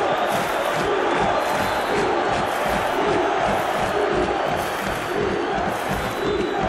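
A huge stadium crowd roars and chants continuously, a dense wall of cheering voices that never lets up, in the football video game PES 2021 during a Milan vs Inter match.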